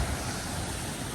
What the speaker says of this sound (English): That, of course, is the Yosemite Creek